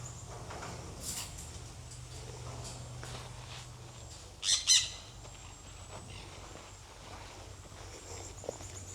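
A bird gives two quick, loud squawks in close succession, set against a quiet background with a low hum and faint shuffling, at an exotic animal facility.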